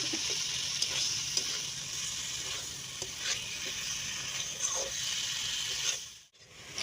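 Mankochu (giant taro) curry sautéed in a pan and stirred, producing a continuous bright sizzle with occasional scraping clicks, close and fairly loud, breaking off briefly near the end.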